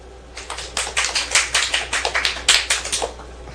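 An audience claps in a short burst of roughly a dozen crisp, evenly spaced hand claps, close and fairly loud, with no talking.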